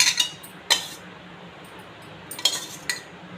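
A spoon clinks sharply against a metal pot a handful of times while yogurt is added to raw mutton for a dum biryani marinade, crisp isolated taps with quiet pauses between.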